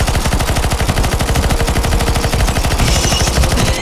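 Rapid automatic gunfire from several players shooting in the CS:GO zombie escape map ze_jerry_malaka_escape, a loud dense stream of bursts with no pauses across the whole stretch.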